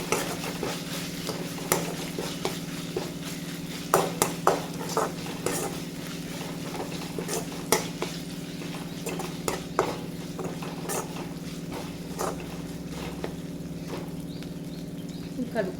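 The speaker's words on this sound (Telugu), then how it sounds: "ఇది ఒకసారి ఇలా పచ్చివాసన పోయే వరకు కలుపుకోండి" A spoon scrapes and taps against a pan while ginger garlic paste is stirred and sizzles gently in oil, the sharp clinks coming irregularly over a steady low fry, close by, with a voice talking at times.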